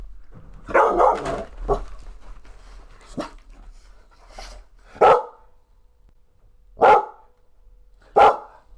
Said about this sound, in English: really obnoxious that you're barking right now